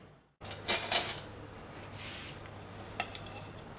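Qeema paratha laid onto a hot tawa griddle: after a brief silence, a couple of soft metallic clinks and a gentle sizzle over a faint steady hum, followed by light scraping taps.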